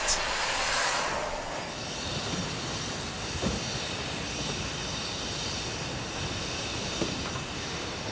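A steam train on the Furka mountain railway at Gletsch station in Switzerland, heard as a loud, steady hiss of steam with a low rolling rumble and a few faint knocks, with no voices.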